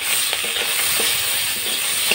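Large tengra fish frying in hot oil while being stirred, a close, steady sizzle with sharp spattering pops and occasional clicks of stirring, no talk.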